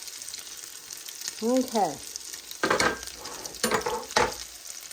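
Potato cakes frying in a pan give a steady, close sizzle that runs through the whole stretch, while a single voice speaks briefly over it and a few louder sputters and clatters break in near the end.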